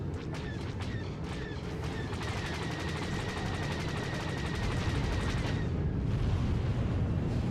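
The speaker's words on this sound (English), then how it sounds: "just launched a missile at him." A missile launch and explosions in the Star Wars: The Old Republic video game, a rapid burst of cracking blasts over a heavy rumbling roar that carries on after the firing stops.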